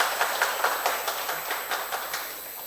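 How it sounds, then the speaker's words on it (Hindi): An audience applauding at a talk on the Maratha naval force, a steady run of claps that fades slightly, heard at some distance over a constant hiss. "आप सब जोर से तालियां बजाएं डॉक्टर संदीप महिंद जी के लिए"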